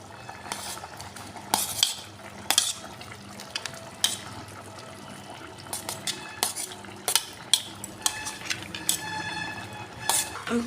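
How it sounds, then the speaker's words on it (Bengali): Fried cauliflower, potato and beans stirred into partly cooked rice for veg pulao, with sharp clinks and scrapes of a utensil against the pot over a faint sizzle, close by and irregular, with no speech. "আমি এরপর ফুলকপি আর আলু ভেজে রেখেছিলাম আর বিনস এইগুলো ভাজাগুলো দিয়ে দেব"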